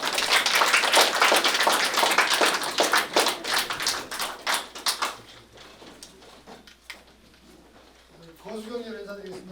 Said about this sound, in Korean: 우리 열심히 좋은 강의해달라고 큰 박수 한번 부탁드리겠습니다.